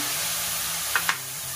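Soy sauce hits a hot pan of egg fried rice with vegetables, giving a steady, even sizzle that hisses throughout, with two faint clicks near the end and no voices.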